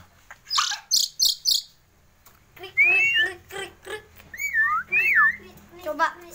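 Javan myna, a jalak kebo held on the hand, gives a rapid run of sharp clicks and then a series of rising and falling whistles and chirps, close and clear, with a person's voice nearby.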